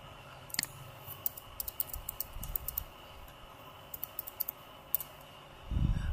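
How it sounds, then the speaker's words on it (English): Close, crisp keystrokes on a computer keyboard as a new password is entered, in short irregular bursts of taps with brief pauses, ending with a soft low thump. "ហើយខ្ញុំនឹង type new password"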